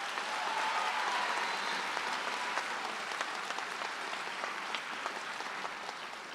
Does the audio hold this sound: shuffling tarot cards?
no